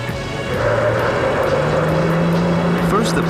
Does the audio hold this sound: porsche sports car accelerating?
yes